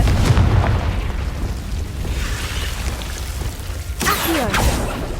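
Confringo fire spell cast in the Hogwarts Legacy video game, a rumbling blast with a burst and crackle near the end, over continuous game ambience.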